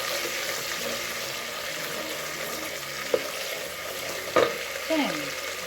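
Onion sizzling in a pot as it is stirred for okra stew, with a steady close sizzle broken by a few brief scraping knocks of the spoon.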